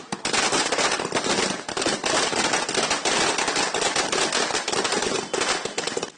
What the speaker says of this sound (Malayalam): അണികൾ കണ്ണൂർ DCCക്ക് മുൻപിൽ പടക്കം പൊട്ടിച്ചും വിജയാഹ്ലാദം മുഴക്കിയും ആഘോഷിച്ചു